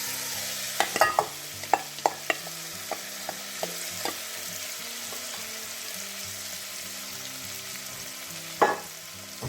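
Sliced onion sweats in butter in a pot for asparagus soup, a soft steady sizzle with a burst of sharp utensil knocks and scrapes early on and another near the end.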